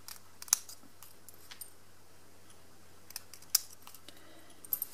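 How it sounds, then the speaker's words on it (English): Scissors snipping paper, a few sharp isolated cuts spread apart, faint and close in a quiet room. "So I'm just going to snip that out"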